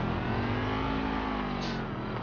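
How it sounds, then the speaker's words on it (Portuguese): A car passes by in GTA Online, its engine revving in a steady, mid-pitched drone that holds loud and close for a couple of seconds before fading slightly at the end, with no talking. "Normalmente, quando aparece essa notificação, o carro deve estar a passar por perto"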